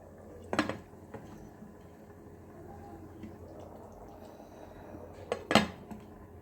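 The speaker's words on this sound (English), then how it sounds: "Okay, I'm covering this with a lid now." A lid is set onto a rice cooker pot holding vegetable biryani pulav, giving two sharp metallic clanks several seconds apart against a quiet background.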